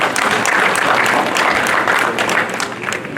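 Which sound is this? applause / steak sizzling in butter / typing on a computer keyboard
applause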